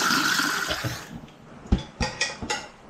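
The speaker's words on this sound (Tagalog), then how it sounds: "Lagyan lang natin ng tubig." Water splashes into calamansi juice for about a second, followed by several sharp clinks and taps of glass or utensils.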